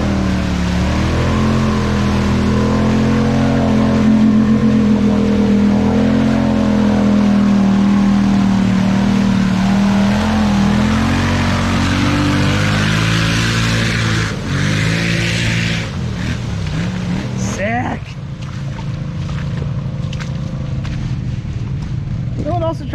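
An off-road truck revs hard through deep mud holes at a muddy trail outing, its loud engine droning and surging with shifting pitch, then cutting back to rough idling and splashes, while people talk over it.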